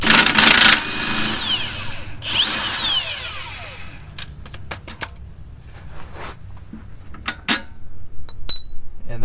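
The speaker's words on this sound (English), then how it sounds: "Then use your 15mm to go ahead and get the lower shock mount bolt out." Wrench work on the lower rear shock mount bolt of a Ford Mustang during a coilover install: a loud burst of metallic clatter at the start, then scattered clicks, ratchet-like taps and small metal knocks at close range.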